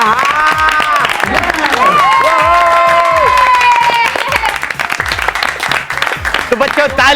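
An audience applauds and cheers loudly for a student being introduced at a ceremony, a dense continuous wash of clapping with tonal voices or music riding over it throughout.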